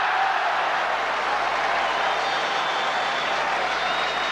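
Stadium crowd at an Olympic decathlon high jump roars in a steady, sustained cheer after an athlete clears the bar, a dense wash of voices and applause filling the whole stretch without a break.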